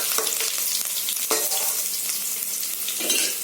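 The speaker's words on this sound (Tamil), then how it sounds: "பூண்டு போட்டு நல்லா வதக்கிக்கோங்க." Garlic and fenugreek seeds sizzle in hot oil in a pan, a steady crackling fry with occasional stirring scrapes, close and fairly loud, with no talking.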